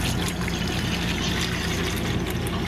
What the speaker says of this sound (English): Once it's cooled, I pour it into a pitcher